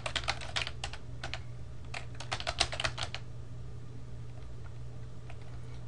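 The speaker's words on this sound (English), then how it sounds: "And let's type ifconfig." Rapid clattering keystrokes on a computer keyboard enter a short command at a Linux terminal, a close burst of taps in the first half followed by quiet hum from a fan.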